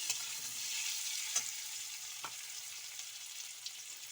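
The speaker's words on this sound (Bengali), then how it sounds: "এরকমভাবে আমগুলো ভেজে নেবেন তেলে।" Mango pieces sizzle in hot oil in a pan for a mango chutney: a steady, soft frying hiss with a few sharp stirring scrapes and clicks, and no voices.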